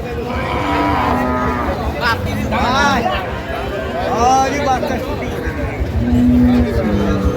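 Cows and calves low repeatedly at the Ambari cattle market, with several drawn-out moos rising over a steady hubbub of voices and buyers talking nearby.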